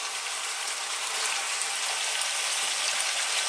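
Onions go into a pan of frying chicken for a curry, giving a soft, continuous sizzle with faint crackles, heard close but quiet and without any talk.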